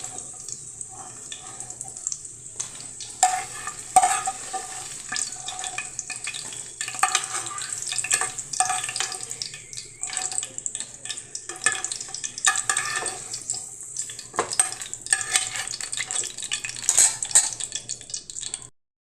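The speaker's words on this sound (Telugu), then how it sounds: "కలదిప్పుదాం పచ్చిమిరకాయలు ఫ్రై అయినాయండి" Green chillies fry in a pan for a dondakaya roti pachadi, with a soft steady sizzle under repeated clinks and scrapes of a metal spatula stirring, close and fairly busy throughout, with no talk.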